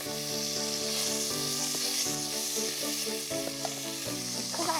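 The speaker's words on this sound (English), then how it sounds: "I'm going to fry it, first of all, until it's a gorgeous golden brown colour." Beef for braising fries hard in a hot pan, giving a loud, steady sizzle with crackling spits throughout, close by and heard alone with no talk.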